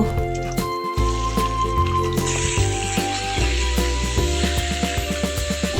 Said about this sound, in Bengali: কড়াইতে মাংস রান্নার জন্য তেল দিয়ে পেঁয়াজ কুচি দিলাম